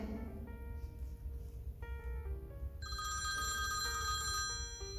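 A mobile phone rings on and on with a bright, repeating electronic ringtone melody, steady and fairly loud, and nobody picks up the call.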